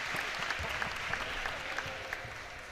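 Applause ripples through a crowd at a netball match, steady hand clapping with a few sharper claps standing out, heard at a moderate distance with no voices.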